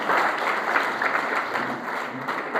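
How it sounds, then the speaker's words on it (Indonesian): Congregation applause during a church sermon, a steady wash of many hands clapping at moderate loudness without pause. "Beri tepuk tangan yang terbaik buat Tuhan."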